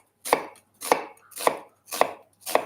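A kitchen knife chops through an onion that is held together at the root, five sharp, evenly spaced cuts with a crisp crunch, close and clear with no talking.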